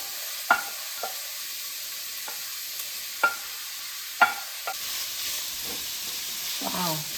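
Mushrooms, carrots and pork being stir-fried in a pan, heard as a few sharp scrapes and clatters of the spatula spaced out over a soft, steady sizzle, fairly quiet with no talking.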